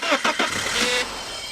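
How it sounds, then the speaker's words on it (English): A BMW E30 engine, started by bridging contacts with a paperclip, cranks with a few quick rhythmic turns, then catches and settles into a steady running idle. "that's how you start the car with a paperclip"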